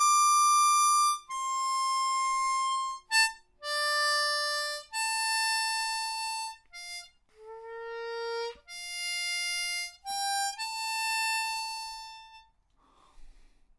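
A harmonica plays the Game of Thrones theme alone, a slow melodic line of clear sustained blown and drawn notes with short breaks between phrases, close and moderately soft.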